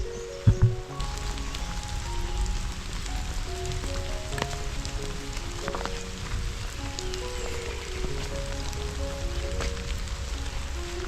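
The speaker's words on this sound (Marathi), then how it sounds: "पक्ष्यांचे आवाज आणि थोडा थोडा पाऊस पडतो बघा" Steady patter of light rain on leaves and surfaces, with scattered faint bird chirps and tones drifting over the soft hiss.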